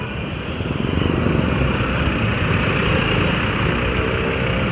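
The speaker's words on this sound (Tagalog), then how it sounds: "Linya-linya mga motor." A line of motorcycles rumbles past in traffic, a loud continuous engine drone with a brief swell as one passes close.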